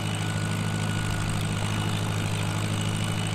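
John Deere 5310 tractor engine pulling a cultivator in Farming Simulator 19, a steady droning engine hum with no talk over it.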